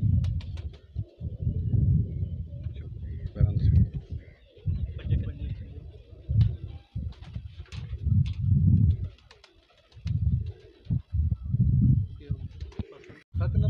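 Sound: pigeons cooing

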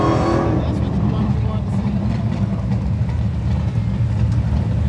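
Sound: Dodge Demon 170 drag racing car engine

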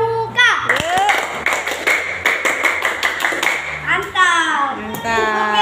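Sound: scout children's clap

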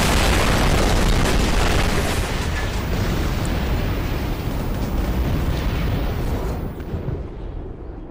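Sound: explosion, something blowing up

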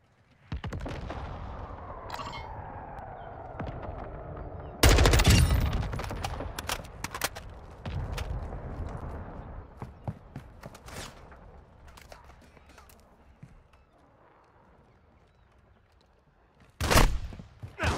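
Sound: gunfire in Call of Duty MW2 DMZ video game

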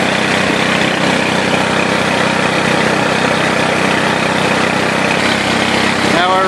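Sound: 48 volt Turgo hydro generator running

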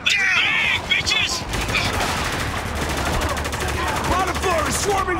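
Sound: gunfire in the video game Spec Ops: The Line

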